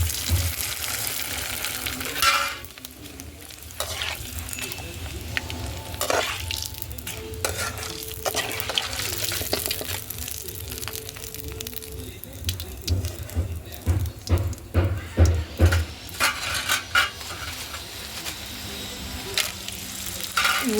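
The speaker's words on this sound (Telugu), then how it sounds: "మళ్ళీ వేరే కళాయిలో నూనె పోసి వడియాలు వేయించుకోవడానికి నూనె పోసాను ఫ్రెండ్స్." Homemade vadiyalu frying in hot oil in a kadai, a steady sizzle broken by repeated stirring scrapes and clinks, with a short run of rhythmic knocks in the middle.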